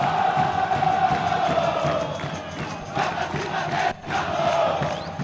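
Operário football supporters roaring in the stadium during a match against Aquidaunense, a continuous dense crowd din with swelling cheers that briefly dips before surging back.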